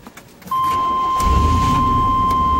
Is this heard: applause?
no